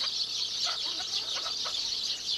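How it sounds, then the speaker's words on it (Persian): Hens and chicks kept inside a house cluck and peep in short, close bursts over a steady high chirping chorus, with no talking. "باسط مرغ و جوجه‌های توی خونه رو خیلی دوست داره"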